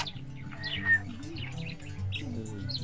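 African lovebirds and cockatiels in an aviary give bright chirps and short whistled calls over a low, steady background hum, several birds overlapping without pause.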